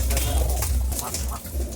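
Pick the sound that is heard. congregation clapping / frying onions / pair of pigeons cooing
pair of pigeons cooing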